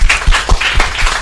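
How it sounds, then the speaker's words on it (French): Brief, loud burst of audience applause, dense clapping close by for just over a second with no talk. "on peut t'applaudir très fort aussi"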